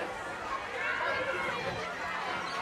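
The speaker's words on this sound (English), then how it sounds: "You can hear the crowd in the background." A crowd at a women's Australian rules football grand final murmurs and cheers in the background, a broad steady roar under a nearby voice.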